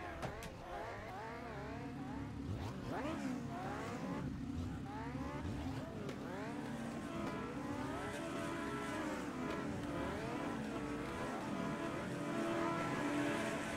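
Autograss race cars roar around a dirt track, several engines revving and rising and falling in pitch as they pass through the bends, with a commentator speaking over the racing.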